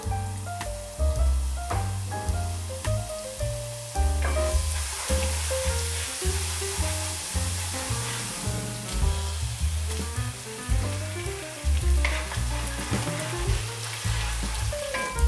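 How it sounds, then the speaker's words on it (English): Ginger, garlic and curry leaves fry in hot oil in a separate pan, giving a steady sizzle with a high hiss that sits beneath louder background music for the whole stretch. "we need to heat oil in a separate pan and add ginger garlic and curry"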